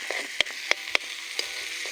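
Masala sizzling steadily in a hot pan on a traditional wood or clay stove, with several sharp scraping clicks from a spoon stirring it at irregular intervals.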